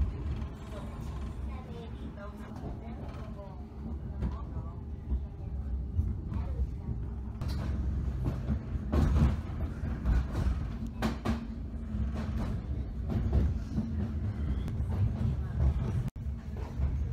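A suburban railway train in Hungary rumbles steadily along with low mechanical drone and occasional clanks and rattles, heard from inside the moving carriage.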